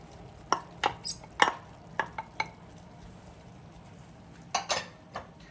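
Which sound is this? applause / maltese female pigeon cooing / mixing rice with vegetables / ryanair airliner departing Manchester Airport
mixing rice with vegetables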